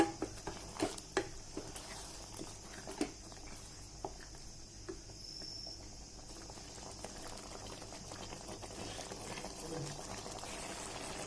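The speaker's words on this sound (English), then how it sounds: "So the tomato mushroom has been cooking for some time. Wow, see the bubble?" Thick tomato mushroom masala simmering in a pan, bubbling and popping softly in a steady low patter, with a few sharper spoon clinks near the start.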